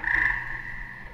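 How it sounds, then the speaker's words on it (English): A tree frog croaks steadily in a pond setting, a sustained bright trilling call that is loudest at the start and eases slightly, heard alone without any talk. "It's terribly hard to find things like a tree frog because they're ventriloquists."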